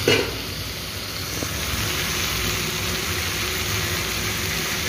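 Potatoes and pointed gourd fry in a cooked spice paste, giving a steady, close sizzle with a brief clatter at the start as the pieces go into the pan.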